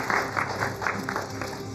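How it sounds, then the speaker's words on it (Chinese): An audience at a media photo event applauds in a steady burst of clapping, fairly close and sustained for a couple of seconds, with a faint murmur beneath. "来，再次掌声"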